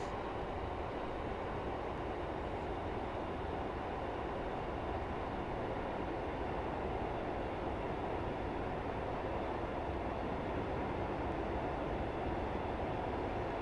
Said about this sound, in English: So brought the train down to 50 a bit early.